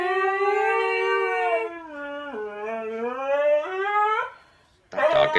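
A dog howls in long, wavering, voice-like tones that rise and fall as if talking, loud and close, followed by a brief burst of other sound after a pause.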